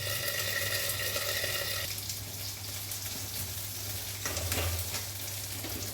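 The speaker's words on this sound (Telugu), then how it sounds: "ఇదిగోండి మిర్చి వేగిపోయినాయి" Green chillies fry under a lid in a pan, giving a steady dense sizzle with crackling bursts, close and even, under a low constant hum and with no talk.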